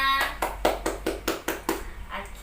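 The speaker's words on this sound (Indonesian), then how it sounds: "Tepuk tangan buat kita semua." A small class of students claps in a short burst of about ten distinct, fairly loud hand claps at an uneven rhythm in a classroom, following a teacher's voice.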